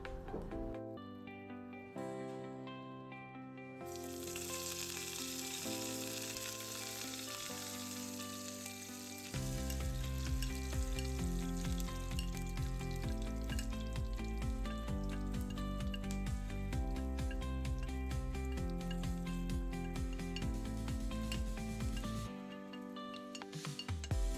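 Spice powders fry in hot oil in a pan for sausage kariyichath, a soft continuous sizzle with light clinks of utensils, heard under background music.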